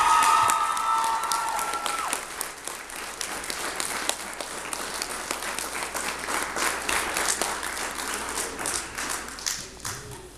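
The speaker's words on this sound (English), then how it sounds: "So, round of applause." A high school drama club audience applauds cast members at a school play, with dense steady clapping and a few cheers from the crowd that slowly thin out toward the end.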